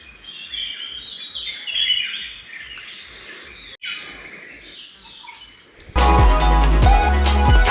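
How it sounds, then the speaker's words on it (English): Birds chirp and sing at a hill viewpoint in Nandi Hills near Bangalore, repeated calls over a steady insect-like pulse, before loud music abruptly takes over. "listen to the sound of the birds"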